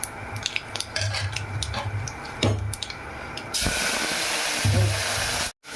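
Dal poured into a pot of hot tempering for Telugu tomato pappu, a loud continuous sizzle and hiss with scraping stirs and clinks of a spoon against the pot.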